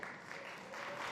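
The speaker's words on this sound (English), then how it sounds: "Round of applause." Applause for a panelist at a food summit: a dense, continuous wash of crowd clapping, even and moderately distant, building slightly toward the end with no voices over it.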